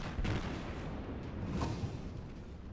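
Naval artillery fire in the World of Warships video game, a German session featuring the battleship Tirpitz: a dense, continuous rumble of booming gunfire with a few sharper blasts rising above it, steady and fairly loud with no talk over it.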